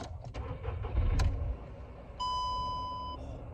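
A Seat Ibiza 1.2 Sport engine cranks and catches amid low rumbling, followed by a steady electronic beep chime as the motor idles.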